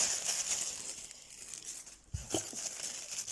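Paper crinkles and rustles softly up close, with a brief sharper crackle near the end.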